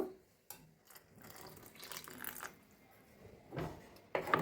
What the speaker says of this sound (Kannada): ಸ್ವಲ್ಪ ನೀರು ಸೇರಿಸ್ತಾ ಇದ್ದೀನಿ ನಾನು